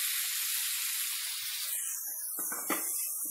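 Marinated prawns, seasoned with salt, turmeric and chili powder, sizzle in hot fried spiced masala for prawn curry, a loud close hiss that abruptly thins out, followed by a couple of soft clatters.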